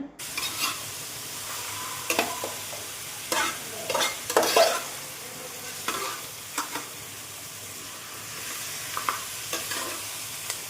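Chicken pieces sautéed and stirred in a pan for a Kerala-style chicken stew, with a steady soft sizzle broken by repeated scraping, clattering stirs at irregular intervals, close and moderately loud.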